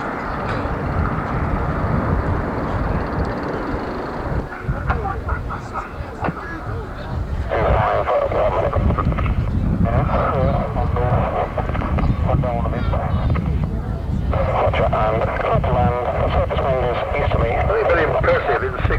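A six-engined aircraft flies over the Farnborough Air Show in 1990 with a loud, continuous engine roar lasting throughout, while a commentator talks over it on the public address.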